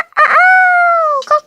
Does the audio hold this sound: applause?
no